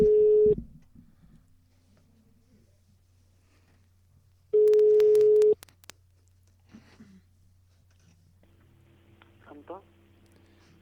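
A telephone busy signal on an international call sounds in two long, steady tone bursts separated by a low line hum, with a few faint clicks and soft background voices in between.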